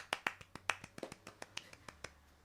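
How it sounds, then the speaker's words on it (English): A golf clap of about a dozen soft, crisp, evenly spaced single claps, close and quiet, with nothing else heard. "Golfers clap."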